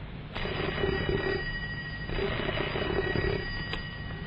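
An old, decrepit electromechanical telephone bell rings in two long bursts separated by a short pause, a bright metallic jangle close up with no voices over it.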